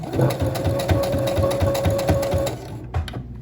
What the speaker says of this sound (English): I'm going to go back to lock the stitch, and then go down